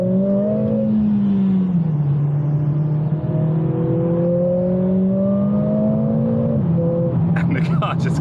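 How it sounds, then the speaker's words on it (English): A Mercedes CLA45s AMG in sport mode accelerates with its exhaust valves open, giving a loud, steady engine drone that climbs and dips through the gears. It is close and constant, with a brief burst of rattly noise near the end. "Press the button, you're straight back into your sport mode. The exhaust opens up,"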